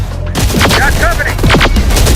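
Loud, rapid bursts of gunfire crackle through a firefight in the video game Terminator: Dark Fate – Defiance. Shots overlap in close succession, with brief radio-style voice fragments mixed in.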